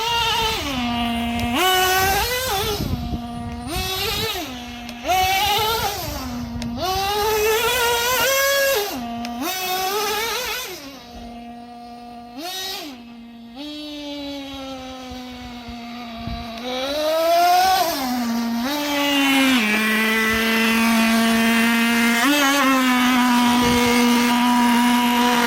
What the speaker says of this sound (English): It does run. Apparently that piston hasn't completely ruined the engine yet